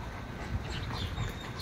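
A dog pants and whimpers softly, with a quick breathy rhythm and faint whines over a low background hum, close by and brief, with no talking.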